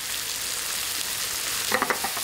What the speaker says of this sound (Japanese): ここでよく炒めてください。